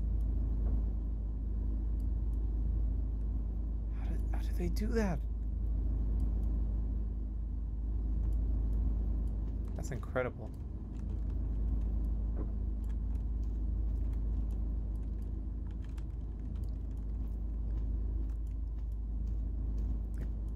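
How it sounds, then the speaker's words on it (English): A generator hums steadily inside a Scratch-made PS1-style video game, a constant low drone under brief remarks from a person talking. "Generator is running."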